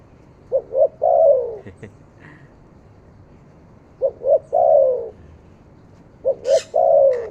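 A caged songbird calls loudly and nearby in three repeated bursts, each a couple of quick notes then a longer warbling phrase, with pauses between.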